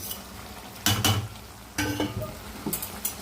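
Tomatoes frying in a pan with rock salt and chili powder: a steady sizzle broken by loud stirring scrapes and clinks of a utensil against the pan, close up.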